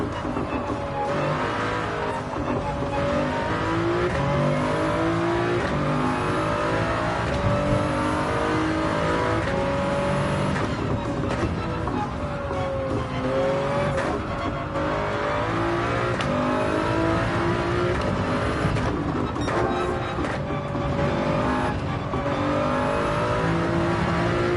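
A BMW engine fitted to a Toyota Supra in Gran Turismo 7 at the Red Bull Ring, droning steadily as it revs up and down through gear changes, loud and continuous with faint tire squeal and no talk.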